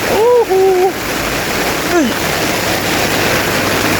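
Floodwater rising on a residential street makes a loud, steady rushing hiss that never lets up. A couple of brief tonal calls sound over the water near the start.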